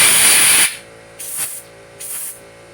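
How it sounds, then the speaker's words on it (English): Compressed air blown into a weed eater carburetor: one long loud hissing blast, then two shorter quieter puffs close by. "I'm going to blow in this carburetor a little bit."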